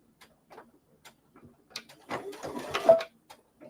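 An embroidery machine runs forward a few stitches, sounding as sparse quiet ticks followed by a short burst of rapid mechanical clattering, close and alone.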